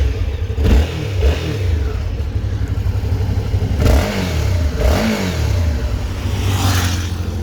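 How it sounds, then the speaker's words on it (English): A Suzuki V-Strom 650 V-twin motorcycle engine runs loud and close, with several rising revs and throttle blips over a lumpy idle, and no talking. "The V-twin creates a very sweet sound, even though you are on a higher RPM"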